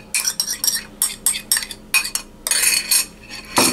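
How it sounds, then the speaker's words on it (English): Butter, brown sugar, white sugar and eggs being mixed in a bowl for banana bread, with a utensil clinking and scraping against the bowl in repeated short strokes, close up and alone. "Add it to the mixture and just keep mixing."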